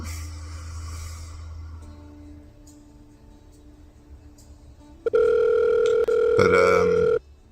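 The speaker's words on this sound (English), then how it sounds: "Another phone call." A telephone rings for an incoming call: a steady, loud electronic tone starts abruptly after a quieter background hum and holds for about two seconds with a warbling change near the end.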